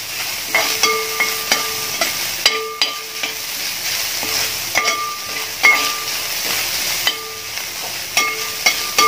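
Half a large grated coconut sizzles in hot oil in a home kitchen, with a steady hiss broken by repeated scraping stir strokes of a metal spoon against the pan.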